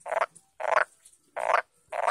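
A tame garden-pond frog gives four evenly spaced croaks, each a short rasping burst close by, while its back is stroked.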